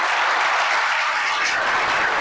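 An audience applauding at a school event, a dense, even burst of clapping that stays loud and steady throughout with no voices standing out.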